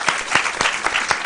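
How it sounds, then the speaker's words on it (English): Audience applause at a school quiz competition between basic schools, a dense wash of clapping with rhythmic surges, steady and fairly loud throughout. "So let's give them a round of applause"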